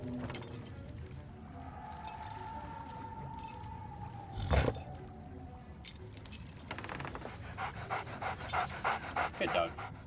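A dog pants in the Sea of Thieves video game while keys jangle and clink in repeated metallic bursts. A sustained tone and a short thump sit in the middle.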